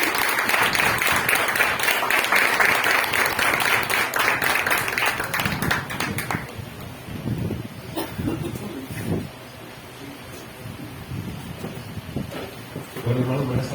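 A church congregation claps warmly for about six seconds, a dense, fairly loud patter of many hands, which then thins to scattered claps and murmuring voices in the hall.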